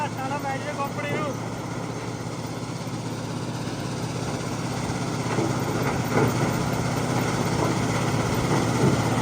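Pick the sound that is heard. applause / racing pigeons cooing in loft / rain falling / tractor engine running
tractor engine running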